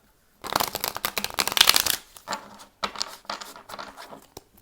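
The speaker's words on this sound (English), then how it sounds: "All right, we will do one last shuffle." A deck of tarot cards is riffled in a quick, crisp burst of shuffling, followed by several shorter, softer shuffles close by.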